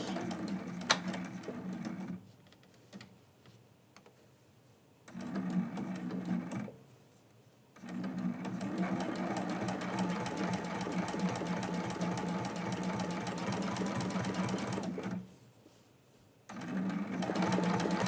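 A sewing machine doing free-motion quilting runs in several long bursts of rapid, even stitching, starting and stopping with quiet pauses between runs, close and clear.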